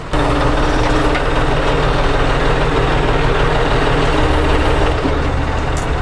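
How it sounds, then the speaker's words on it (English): A tractor with a tree puller attachment running, its loud, steady low engine rumble droning close by throughout with no talk. "Did you see right there how the tractor moves to the right?"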